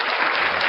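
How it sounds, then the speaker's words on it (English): Audience applause for a guest, a short burst of dense clapping throughout. "A round of applause for David."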